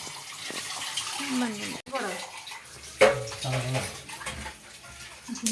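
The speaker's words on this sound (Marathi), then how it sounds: "चहाचं पातेल घासते" A tea pot being scrubbed under a running tap, the water splashing and gurgling steadily with metallic scraping and clanks, while someone talks over it.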